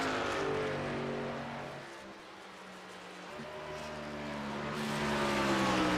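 A race truck engine at a Pocono truck series race, a steady loud drone that dips and swells as the truck downshifts into corners and passes at a distance.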